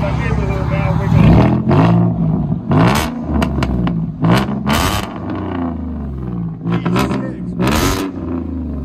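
A 2016 Ford Mustang 3.7L V6 with straight-pipe true dual exhaust revs loudly and roughly, with repeated raspy blips and roars close by while people talk over it.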